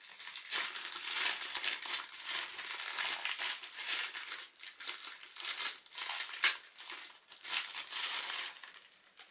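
Crinkly plastic wrapping being pulled open from around an expensive apple in Japan, with tape on it, a steady run of close crackling and rustling bursts with brief pauses, no talking.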